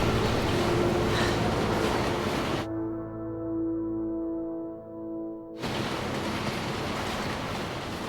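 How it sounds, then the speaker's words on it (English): Train running in the Resident Evil 2 game: a steady mechanical rumble with tonal hum, broken by a few seconds of cleaner, quieter droning before the fuller noise returns, close and continuous with no talk. "Okay, the train still worked."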